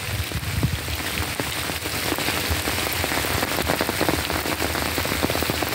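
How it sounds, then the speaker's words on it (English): Steady rain patters and drips all around in the woods, a dense continuous hiss with scattered sharper drops, no voices. "that's because it's raining and I'm in the woods"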